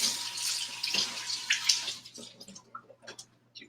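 Tap water runs steadily while cucumber, watercress, apple and kale are rinsed, a close broadband rush that fades after about two seconds into lighter splashes and drips.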